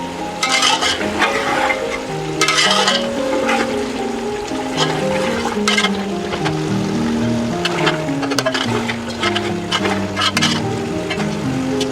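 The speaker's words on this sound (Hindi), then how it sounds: "अब हम इसको 4 से 5 मिनट के लिए भून लेंगे" Beef pulao masala of softened tomatoes and yogurt is sautéed, a loud, continuous wet sizzle with thick bubbling and repeated spoon scrapes through the pot, steady from start to finish with no voices.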